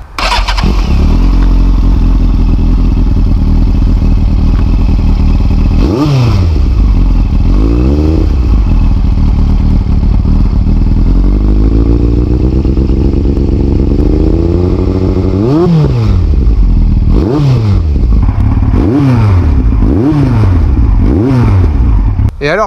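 A 2002 Yamaha Fazer 1000 motorcycle, modified by its owner with a second exhaust, idles loudly and close up with a deep, steady throb, broken by several sharp revs that rise and fall.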